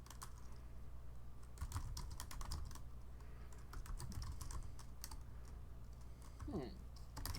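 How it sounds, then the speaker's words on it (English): Someone types on a computer keyboard nearby, a quick irregular patter of key clicks running throughout at low volume, with a voice briefly audible in the background. "he's typing"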